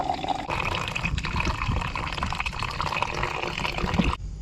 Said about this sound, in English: First thing, I'll put some water in.